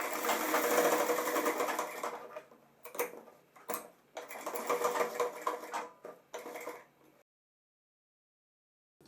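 Sewing machine stitching a zipper into pant-cut pajamas, running in steady whirring bursts with brief pauses between runs, close and alone, stopping before the end.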